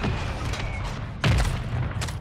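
Video game gunfire sounds as a sudden loud burst midway through the clip, over a constant rumbling background of game noise.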